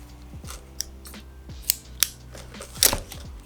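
Several sharp metallic snips of scissors, irregularly spaced, close and crisp, with quiet handling noise between cuts.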